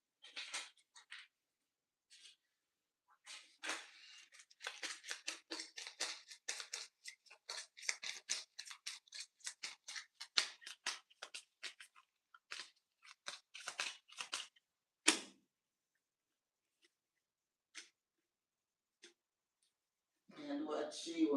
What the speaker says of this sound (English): See me shuffle the deck good